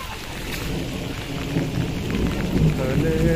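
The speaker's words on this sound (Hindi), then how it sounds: "ये देखिए काफ़ी तेज़ बारिश हो रही है अभी" Heavy monsoon rain pours steadily with a continuous dense hiss and low rumbling thunder throughout, loud and enveloping.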